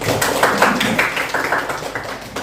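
A class applauding during a teacher-training lesson, with scattered hand claps repeating in an uneven rhythm for the whole stretch, nearby and fairly loud, and no voices over them.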